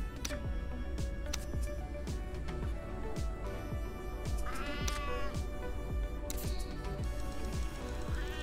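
A hungry cat in the survival game Sheltered gives several drawn-out meows and wails over a steady background of rhythmic ticking and clicking game sounds.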